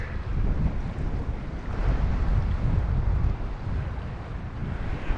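Waves break on a sandbar off a beach at night during big tides, giving a steady, dense wash of surf mixed with gusty wind buffeting the microphone, with no voices.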